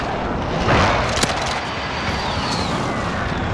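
Deep rumbling airstrike bomb blasts in Call of Duty Modern Warfare on the Scrapyard map, a heavy boom rolling out into sustained low noise with a sharp crack partway through.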